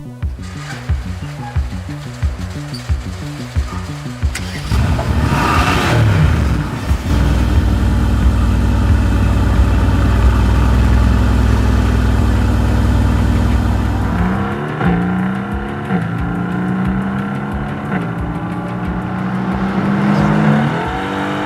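A Mercedes-AMG GT R with a twin-turbo 4-litre V8 and a BMW M6 run on a race track, one car revving through rapid gear changes before a long loud sustained full-throttle roar, then more shifting and revving nearby.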